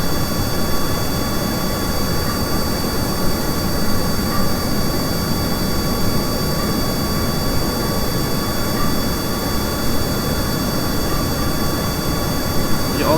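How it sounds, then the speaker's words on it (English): In Kerbal Space Program, a rocket engine gives a loud, steady, unbroken roar that fills the whole stretch evenly, with no pauses or change in intensity. "Also barely hear me over the engine."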